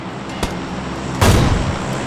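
SKS rifle shots in PUBG ring out as two sharp, fairly loud cracks with a booming tail, the second heavier, under low game ambience with no talk.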